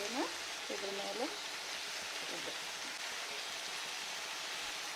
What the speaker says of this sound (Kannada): ಈಗ ಈರುಳ್ಳಿನ ಇದರ ಮೇಲೆ ಉದುರಿಸ್ತಾ ಇರ್ತೀನಿ.